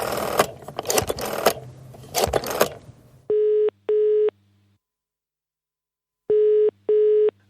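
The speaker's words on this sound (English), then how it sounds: "Why does it sound like I'm using a phone in the UK?" A UK-style telephone ringing tone sounds as two double-pulse rings, clean and steady, after a burst of rustling noise, with no talk.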